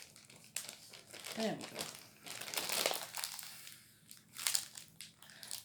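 Crinkling and crushing of a Ziploc plastic freezer bag in a home kitchen during batch cooking, a few bursts of rustling close up, with a person speaking briefly over it.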